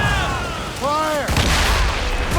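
Ship cannons booming in a naval battle in Assassin's Creed Rogue, with heavy blasts and rumbling over wind and sea noise, while voices shout commands.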